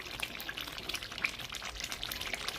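Fish stew bubbles and splashes in a cooking pot, a faint busy spatter of small pops and sizzles that carries on steadily without pause and with no talking.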